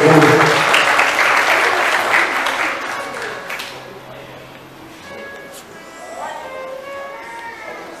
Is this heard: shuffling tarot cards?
no